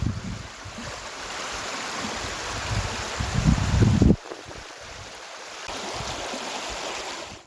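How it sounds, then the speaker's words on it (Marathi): Rain-fed water rushing through small streams and drains, a steady broadband wash with a heavier gushing swell near the middle before settling back to a continuous flow, with some wind buffeting. "अनेक ठिकाणी छोट्या मोठ्या ओढ्यातून आणि नाल्यातून पाणी वाहू लागलेलं आहे"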